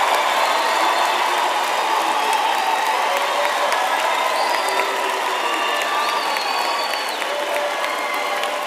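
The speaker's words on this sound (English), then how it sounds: "Let us give our graduates a big hand for their hard work and perseverance." Audience at a University of Pretoria graduation ceremony for the Faculty of Economic and Management Sciences applauds and cheers the graduates, with dense steady clapping, whoops and shouts filling a large hall without a break.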